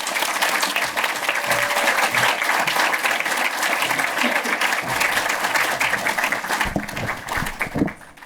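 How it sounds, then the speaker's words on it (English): Audience gives a sustained, dense round of applause welcoming a film lecturer to the lectern, steady and full throughout before tapering near the end. "join in giving a very heartfelt round of applause to welcome Vinzenz up"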